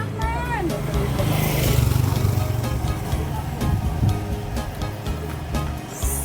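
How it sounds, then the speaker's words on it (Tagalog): A motorcycle on a road passes during a walk, its engine a low, steady rumble that swells near the middle and then fades, with people talking over it. "May motor, gilid."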